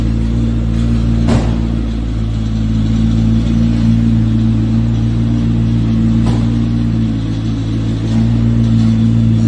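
A McLaren P1 supercar engine idles and rumbles loudly and steadily as the car drives out, with a deep continuous drone and a couple of brief sharp clicks.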